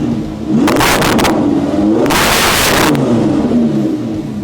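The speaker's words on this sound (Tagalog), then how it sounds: "Grabe, iba talaga tumunog yung Lamborghini." A Lamborghini fitted with an aftermarket exhaust revs hard twice in close succession, loud and near, the engine note climbing and falling between blips with no talking over it.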